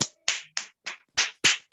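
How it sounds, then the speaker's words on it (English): Two-finger clapping by participants in a training session: seven sharp, crisp claps at an uneven, slightly quickening pace, close and loud with silence between them. "2 finger clap."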